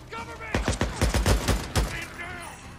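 Gunfire in the video game Days Gone: a quick volley of about eight loud, sharp shots in rapid succession, followed by a fading tail, with a voice talking briefly around the bursts.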